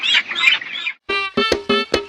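Chickens at a poultry seller's shop, a burst of high squawking followed by four sharp, harmonic clucks in quick succession, close and loud.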